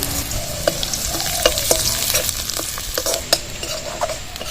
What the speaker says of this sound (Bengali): তেল কড়াইতে দিয়ে দিচ্ছি রসুন কুচি আর আদা কুচি এবার দিয়ে দিলাম